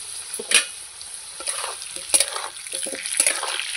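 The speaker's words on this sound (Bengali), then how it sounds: "আলুটা একটু ভেজে নেব।" Potatoes frying in a pan: soft crackling sizzle with several sharper scrapes and stirring knocks as the pieces are moved about, close and moderately quiet, no talk.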